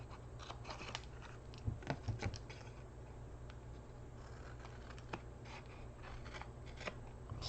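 Scissors snip through patterned scrapbook paper in a quiet room, a series of close, crisp cuts and rustles, clustered near the start then spaced out, with no speech.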